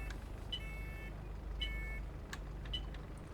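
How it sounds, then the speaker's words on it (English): Bus doors beep in the OMSI 2 bus simulator on a London route, with a repeated series of short high tonal beeps over a steady low engine rumble. "the doors beep when they're opening and shutting"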